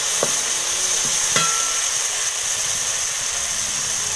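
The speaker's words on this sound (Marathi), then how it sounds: "आता टोमॅटो टाकूया, ही उसरी जरा 2 मिनटं हलवून घेऊया." Tomatoes being stirred in a pan on a wood-fired stove, a steady low sizzle under a constant background hum, broken by a couple of sharp knocks of a utensil against the pan.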